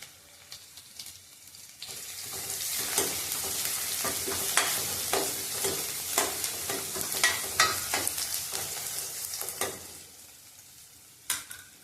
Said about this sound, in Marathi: लसूण, चेचलेला लसूण घालायचा आहे